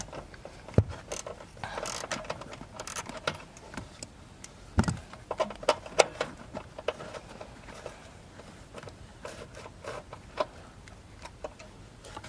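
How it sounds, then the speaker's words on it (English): A ratchet wrench working a bolt loose to free the ECU on a Nissan SR20DET engine, heard as quiet, irregular clicks and small metallic ticks scattered across the clip. "I'm taking off this bolt right here right now."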